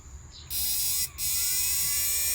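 Inverter cooling blower fan, a close, high electric whir that spins up abruptly, dips briefly, then runs steady and loud.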